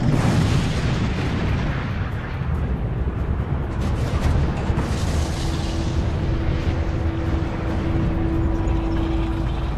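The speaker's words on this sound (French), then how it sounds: "Le tir russe est largement inefficace." Booming WWII artillery fire on the Russian front, a dense continuous rumble of distant cannon and explosions with a steady drone running underneath, loud throughout and with no voices.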